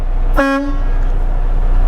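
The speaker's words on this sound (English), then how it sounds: "We have a city horn and an air horn." A single short, loud truck horn blast with a bright, tonal blare, cutting off quickly and leaving steady background rumble; heard during a Class A truck pre-trip inspection.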